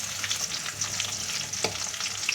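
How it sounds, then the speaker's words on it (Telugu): Sliced onions, green chilies and curry leaves fry in hot oil for a soya curry, a close, continuous crackling sizzle with brisk stirring scrapes and one sharper clatter near the end. "సన్నగా కట్ చేసుకున్న ఉల్లిపాయలు, పచ్చిమిర్చి వేసి ఒక 2 రెబ్బల కరివేపాకు వేసుకొని ఈ మొత్తం కలిసేటట్టు ఇలా కలుపుకోవాలి."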